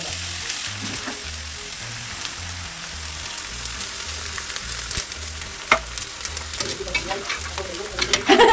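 Edible gum (gond) frying in ghee over a village clay stove, a soft continuous sizzle with light stirring and scraping, fairly quiet and growing busier toward the end.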